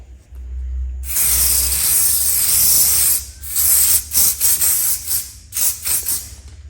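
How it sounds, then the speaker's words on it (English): A can of fixative sprays onto a soft pastel drawing of Uluru: a long loud hissing burst, then several shorter puffs in quick succession. "Then we're going to spray."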